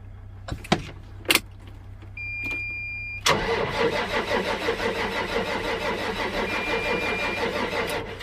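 An MXM 190 tractor's diesel engine cold-starts in winter: a few clicks and a whirring starter before the engine catches and settles into a steady, rumbling idle, close and fairly loud, with no voices.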